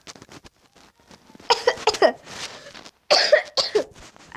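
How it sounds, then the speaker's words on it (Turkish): A few rough, hoarse coughs in short clusters, close by, with softer breathy sounds and quiet pauses between bursts. "O yüzden öksürüyorum."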